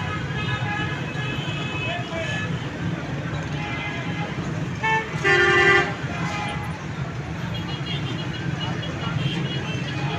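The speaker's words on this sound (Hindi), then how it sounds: "बेहंगम ट्रैफिक," Busy, chaotic street traffic at Taxila Chowk with a constant roadway rumble, one prominent horn blast midway and a few fainter toots, while someone talks over it.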